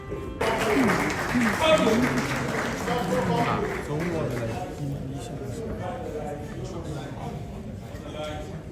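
An audience at a campaign launch event claps for the next speaker, a dense burst of applause that stays fairly loud and gradually thins, with voices mixed through it.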